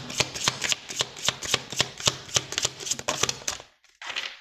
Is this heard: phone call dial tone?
no